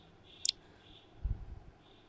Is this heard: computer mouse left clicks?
yes